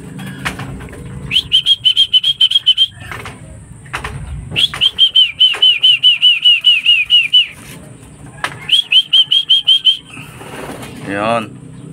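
Racing pigeons returning to their loft after a 296 km race from Vigan, with repeated bursts of wing flapping and high chirping close by, broken by short pauses while a man calls to the birds.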